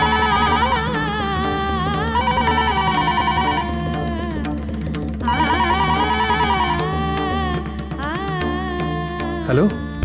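A melodic phone ringtone plays on a call, its tune repeating in phrases over about ten seconds with brief pauses between, fairly close, with some background sound.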